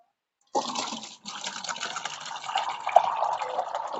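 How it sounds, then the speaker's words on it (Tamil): Fermented kitchen waste liquid, including dates, pours into a bucket in a steady splashing gush that starts abruptly, breaks off briefly, then continues close up. "இத ஃபெர்மெண்ட் ஆனதை நல்லா கலக்கி விட்டுட்டு இதுல தூக்கி ஊத்திக்குவோம்"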